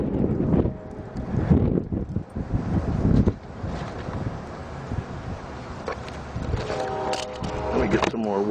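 Wind gusts across the microphone beside an outdoor wood gas camp stove during a boil test, a steady rumbling buffet with irregular surges, and a person talks over it at times.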